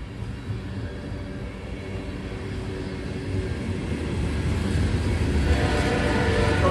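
A long Providence and Worcester freight train with 490 axles rumbles steadily past in Worcester, a heavy low roar that grows gradually louder over several seconds with no voices.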